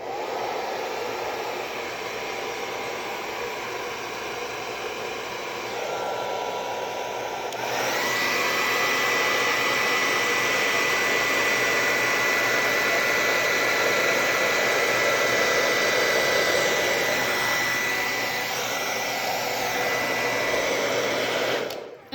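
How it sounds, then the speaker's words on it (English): A hair dryer blows steadily on high with a cool setting, fitted with a long skinny nozzle and used over pour-painted paint, a close continuous whooshing whir that swells louder partway through. "I just did one sweep with my hair dryer and I did it on high setting, cool temperature"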